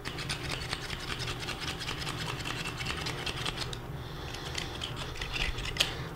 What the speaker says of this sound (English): Now we'll try out the push button grinder. And I'll push this button as fast as I can for 15 seconds.